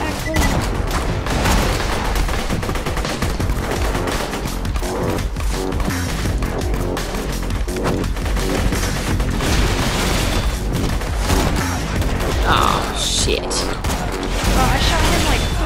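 Continuous loud gunfire and booming explosions from the shooter video game Borderlands 2 fill the scene in dense rapid bursts, with players talking over the action.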